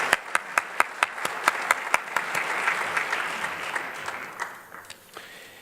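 A crowd applauds city leaders at a State of the City event. It opens with sharp, rhythmic unison clapping that melts into a broad wash of applause, then thins out toward the end.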